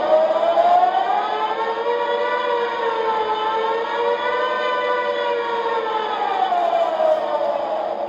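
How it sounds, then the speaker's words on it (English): A train engine horn in a video game sounds as an air raid siren, one steady loud wailing tone holding for the whole span and rising and falling slightly in pitch. "It's just an air raid siren."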